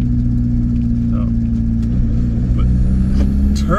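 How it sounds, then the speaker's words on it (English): Turbocharged TDI engine in a VW T25 camper accelerating, a steady loud low drone of engine and road noise throughout from inside the moving van, with faint voice murmur underneath. "But turbo just sounds gorgeous."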